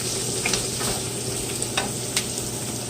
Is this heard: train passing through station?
no